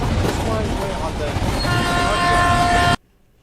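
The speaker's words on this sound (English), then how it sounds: "Gotta do something about that train." Roblox video game train running loud and steady with rumbling rail noise and a sustained horn-like tone, cutting off abruptly near the end, with people talking over it.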